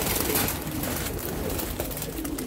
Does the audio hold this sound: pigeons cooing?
yes